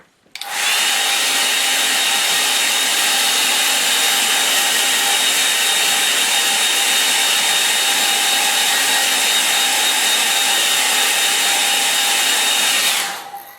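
A hair dryer runs continuously at close range for about thirteen seconds, a steady loud whooshing whine that starts and stops abruptly, with no speech.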